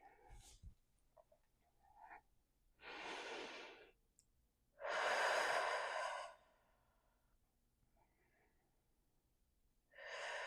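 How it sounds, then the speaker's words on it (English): Slow, deep breathing is heard alone and close up, with two long audible breaths, a soft inhale followed by a longer, louder exhale, separated by quiet pauses and another breath starting at the end. "I just need to breathe a few times."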